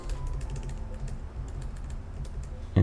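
Steady typing on a computer keyboard at a Windows 11 PC, a quick run of close keystrokes with a louder thump near the end.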